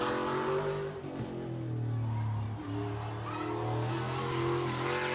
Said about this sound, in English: Whoa, big slide up onto the front straightaway.